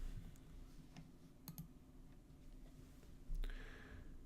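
Faint computer mouse clicks in a quiet room, a few soft isolated taps and a quick double click, followed by a brief rise in background noise near the end.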